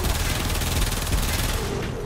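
Braton Prime rifle in Warframe firing a sustained, dense burst of rapid automatic shots, loud and continuous for about two seconds with no pauses.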